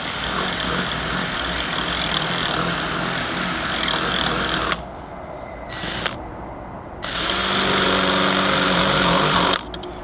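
Loud, steady whine of a power tool carving two lugs for a refillable LPG bottle fitting in a motorhome, running in two long bursts separated by a short pause with a brief blip between.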